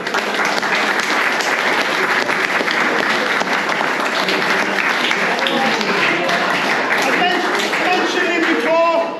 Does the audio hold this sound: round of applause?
yes